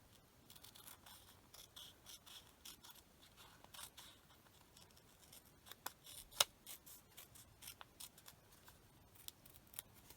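Scissors cut around lines on stamped paper with quiet, close snips and soft scraping. The cuts come in an irregular, steady rhythm with no talk.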